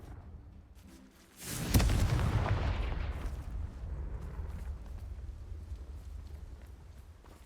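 A Confringo blasting spell cast in a video game, a sharp bright burst near the two-second mark swelling into a loud, rumbling explosion that slowly decays over a steady low background.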